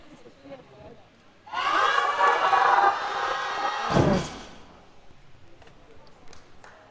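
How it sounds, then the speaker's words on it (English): A support crew at a powerlifting meet cheers and shouts loudly for a lifter for a few seconds, with a sharp bang partway through, then the noise fades to a quieter murmur. "Getting that crowd pumping."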